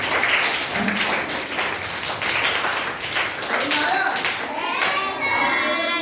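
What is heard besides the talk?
students clapping loudly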